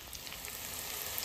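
Potatoes and onion fry in a pan, giving a brief, faint, steady sizzling hiss.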